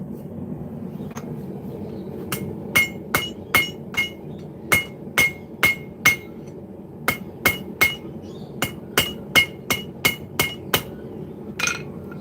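A hammer strikes metal on an anvil horn at a forge, about twenty ringing, sharp blows in a steady rhythm with brief pauses, loud and close over a low background rumble, with no speech.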